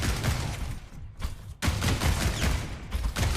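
Rapid ranged gunfire from a hero in the video game Overwatch rattles in dense bursts, with a brief pause midway before the shooting resumes, loud and continuous.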